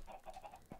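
Chickens on an automatic chicken farm in Minecraft give a few soft, rhythmic clucks, followed by a brief low thump near the end, faint and with no talking.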